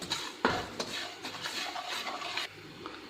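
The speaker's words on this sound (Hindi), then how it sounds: "घी मेल्ट हो गया, अब इसमें सूजी डाल देते हैं। हम इसको थोड़ा सा भून लेंगे।" Semolina roasting in melted ghee for kheer, a dry, uneven scraping of a spoon stirring through the pan with a sharp knock near the start and soft sizzle underneath, close by and without talk.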